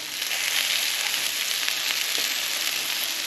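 Meatballs sizzle steadily in a pan of sauce for a meatball sandwich, a close, even crackling hiss with no pauses and no talk.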